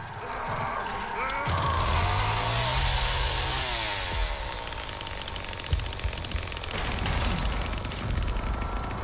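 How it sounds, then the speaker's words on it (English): Chainsaw revving in The Texas Chainsaw Massacre video game, a loud sustained buzzing roar that rises and falls in pitch through the whole stretch, with harsh chattering bursts and no talk over it. "I gotta rev the chainsaw."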